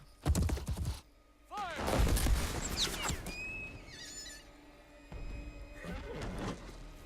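Assassin's Creed III game audio with bursts of gunfire, sharp cracks early on amid horse whinnies and hoofbeats, followed by ringing metallic tones and busy action sounds.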